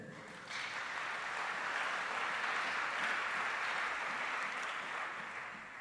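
A church congregation breaks into loud, sustained applause for the Lord, a dense wash of clapping that swells after a quiet start and holds steady before easing slightly.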